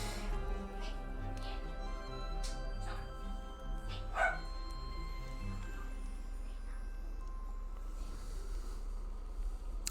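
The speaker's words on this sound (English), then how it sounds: "Never mind my dog." A pet dog barks briefly in the background, a short burst around the middle, over steady electronic game music and tones.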